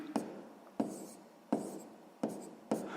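Pen strokes write math numbers on paper, five short scratchy bursts in an even rhythm, close and fairly quiet, with no talk.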